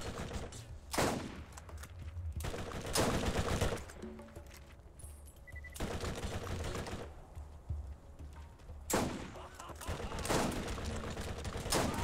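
Loud bursts of gunfire from the video game Borderlands, with several rapid volleys separated by brief pauses, each burst sharp and close.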